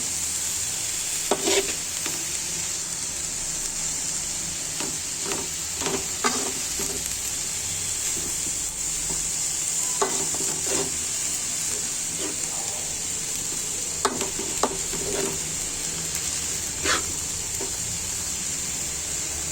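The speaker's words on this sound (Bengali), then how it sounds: "এভাবে মোটা ডাটা মূলা শাকটা ভাজা করে খেয়ে দেখবেন" Thick-stemmed radish greens fry with a little fish in a pan, giving a continuous close sizzle broken by scattered scraping stirs, with no voices.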